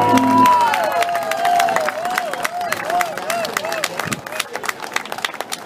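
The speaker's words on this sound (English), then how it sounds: "Give them a round of applause." Festival crowd applauding at a Caribbean jazz festival stage, steady clapping and cheering throughout, with a sustained whistle-like tone gliding over the noise and a loud announcer voice over it.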